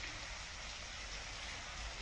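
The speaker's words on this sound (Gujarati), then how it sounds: "ભારે વરસાદ કે જેના કારણે અત્યારે સંપૂર્ણ વલસાડ પાણી પાણી થઈ ગયું છે" Heavy monsoon rain in Valsad, Gujarat, pours as a steady broadband hiss, faint and unbroken throughout with no distinct drops or voices standing out.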